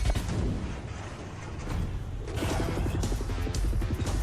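Loud, dense combat from the video game Titanfall 2, with booming explosions and rapid gunfire overlapping continuously, building into a harder rattling barrage in the second half.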